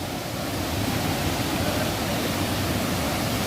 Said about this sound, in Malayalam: ആർത്തലച്ച് വരുന്ന ആ വെള്ളം കാണാനും അതുപോലെ ആ ഒരു ശബ്ദം കേൾക്കാനും അടിപൊളിയാണ് കേട്ടോ